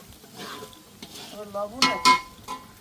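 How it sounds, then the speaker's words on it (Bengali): Spices frying in a pot for mung dal in a home kitchen, soft sizzling with spoon stirring and a few sharp metal scrapes against the pan, close by, with faint background voices. "মুগ ডাল রান্না করবে মিশ্রা রান্না করার জন্য মশলা কষাইতেছে"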